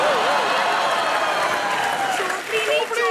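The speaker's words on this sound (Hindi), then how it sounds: "जोरदार तालियां परिणीति चोपड़ी के लिए।" A television comedy show's studio audience applauds with a steady, dense wash of clapping and crowd noise, loud and continuous throughout, with a few voices calling out over it.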